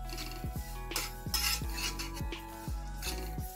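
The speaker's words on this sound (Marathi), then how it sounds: "आता हे देखील तीळ एकदम मंद आचेवर खरपूस भाजून घ्यायचे आहेत" A metal spoon stirs and scrapes unpolished sesame seeds roasting over a low flame in a kadhai, with about a dozen ringing clinks in an uneven rhythm over a faint, soft sizzle; no voices.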